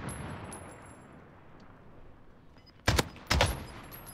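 Gunfire in Call of Duty: Warzone, two sharp, loud bursts near the end after a stretch of quiet, low background rumble.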